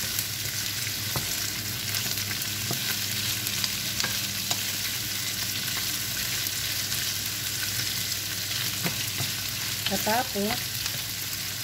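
Onions frying in a pan for kinamatisang pork give a steady, close sizzle. Scraping and clinking from stirring punctuate it, and a voice speaks briefly.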